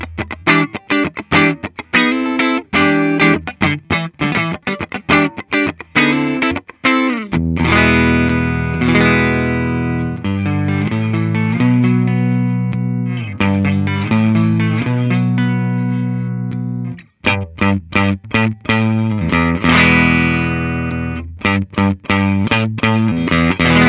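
A Gibson Blueshawk electric guitar rings out repeated strummed chords with its Varitone switched in and out of the circuit, sounding loud and sustained with choppy pauses between strums and no voices.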